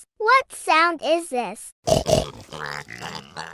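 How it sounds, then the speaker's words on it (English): A pig grunts and oinks in a few rough, snorting bursts right after a short spoken question, close and fairly loud. "It's a pig."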